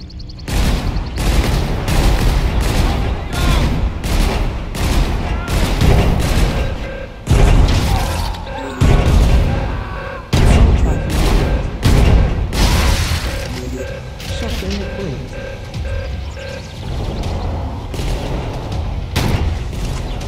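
Assault rifle gunfire in the video game Beyond Flesh and Blood, loud bursts of rapid shots and heavy booms repeating in clusters with brief pauses, dense and close throughout.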